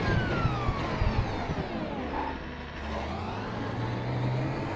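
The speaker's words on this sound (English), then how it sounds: "You hear the turbo a lot." An Audi R18 e-tron quattro LMP1 prototype racing car in the iRacing video game whines with its turbo, a loud continuous synthetic engine drone and rising whistle under steady road and tire roar.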